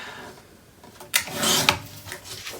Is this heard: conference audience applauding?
no